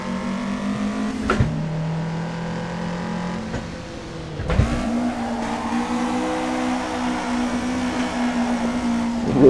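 Car engine in the Assetto Corsa racing game, drifting: a steady, loud engine drone that drops sharply twice on gear shifts and then climbs and holds, with no talking.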